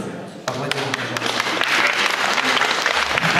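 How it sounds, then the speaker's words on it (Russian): Audience applause at an Indian Day evening of a Festival of Eastern Arts in St. Petersburg, breaking out suddenly after a brief pause and swelling into loud, dense, sustained clapping with a low murmur of voices underneath. "Аплодисменты,"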